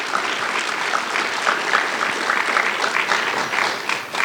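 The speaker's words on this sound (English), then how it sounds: "So let's give them all a big round of applause for their taking their time out." Audience applause at a civic youth event, steady dense clapping from a sizable crowd sustained throughout with small swells, no voices over it.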